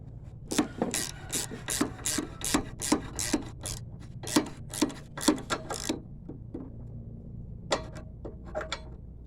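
Carburetor bolts being tightened on an old Tecumseh 3.5 engine: about a dozen evenly spaced, close rasping strokes, then a pause and a few more scattered strokes.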